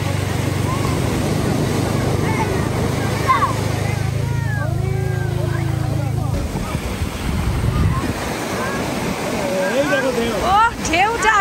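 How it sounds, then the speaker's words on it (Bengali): Sea waves roll in and break on a crowded beach at Laboni Point, Cox's Bazar, a loud, rushing wash under strong wind noise on the microphone, with people talking and calling nearby. "ও ঢেউটা আসতেছে।"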